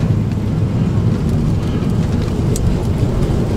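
An old truck with Dynamax mufflers rumbles steadily while driving, its engine giving a dense low drone that holds level throughout with no break.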